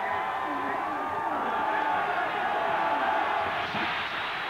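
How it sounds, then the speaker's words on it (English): A big Auburn football stadium crowd at a 1986 Georgia Bulldogs game gives off a steady, dense roar of cheering that holds at an even level throughout. "the Auburn crowd really firing up the defense"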